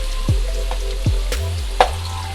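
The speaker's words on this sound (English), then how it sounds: "So frying the fries on the high flame makes the fries more crispy." Fries frying in hot oil over a high flame give off a steady, close sizzle, with a few low knocks and clatters from the pan breaking through the hiss.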